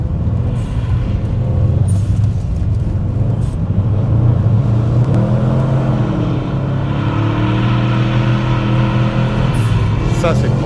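Subaru rally car engine running at full revs, a loud sustained drone from inside the car, with pitch rising and falling through gear changes, and people talking over it.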